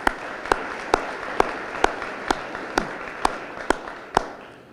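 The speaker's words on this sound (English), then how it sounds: "Please join me in a round of applause." At an IMPD retiree luncheon, an audience claps in a steady, even wash of applause, punctuated by regular sharp beats about twice a second, with no talking.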